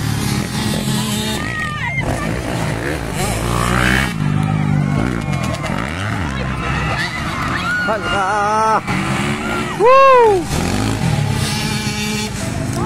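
450cc motorcycles race in a novice-class event at barangay Natulongan, Kibawe, their engines revving and whining loudly beneath continuous excited commentary and cheering.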